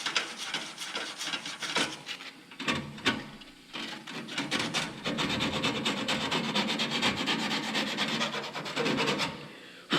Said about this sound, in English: You just do that with a piece of 100 grit sandpaper